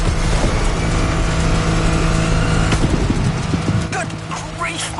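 Racing car engine in The Crew Motorfest video game, roaring loudly and continuously at full speed on a downhill run, with shifting engine tones and scattered clatter over a steady noisy bed, fading slightly near the end.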